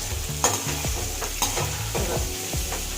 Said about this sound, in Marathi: आता त्याला बऱ्याचशे बटाटे त्या तेलात परतून घ्यायचे आपल्याला